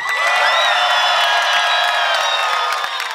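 A large live rap concert crowd at an amphitheatre screams, whoops and applauds for the performers, a dense, loud and continuous roar of high-pitched shrieks and scattered clapping with no gaps.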